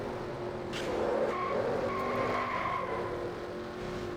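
A NASCAR stock car skids and wrecks in the NASCAR Racing 2003 video game, with a sustained tire squeal over engine drone, moderately loud and without talk.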